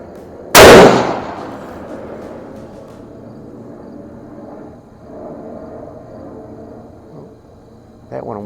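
A single loud Savage Axis rifle in .308 Winchester fires once, a sharp close blast that rings and fades over about a second, followed by quiet outdoor ambience and a faint clank near the end.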